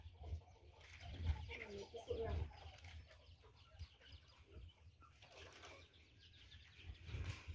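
Chicks chirping on a home terrace, faint high peeping scattered through the clip amid some clucking from nearby fowl and low background noise.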